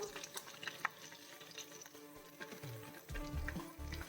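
Ground spice paste with curry leaves going into hot oil for a prawn dish, giving soft frying and stirring noise that swells into a louder, denser sizzle toward the end, with no voices.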